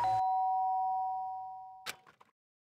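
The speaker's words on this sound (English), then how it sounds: "The sharp sound of the doorbell pierced my sleepy haze and pulled me back to the real world." Doorbell chime from the video game Danganronpa: Trigger Happy Havoc, a clear sustained electronic tone fading gradually over about two seconds, followed by a short cluster of faint game sound effects.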